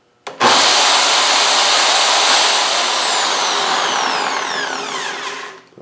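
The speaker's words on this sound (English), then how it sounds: "So, start it up and see if we can drill a hole." Lathe on a prototype jig spinning a drill bit, starting abruptly into a loud, steady high whine that holds for about five seconds, then winds down and stops.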